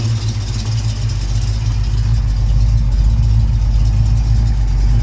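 A 1969 Oldsmobile Hurst/Olds V8 idles steadily after a long warm-up, a loud, close, continuous low rumble with a slightly uneven lope and no speech over it.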